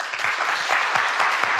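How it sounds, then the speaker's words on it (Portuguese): A church congregation applauds the event team, a brief burst of dense clapping from many hands, fairly loud and close with no talk over it. "Eu queria que você aplaudisse a eles."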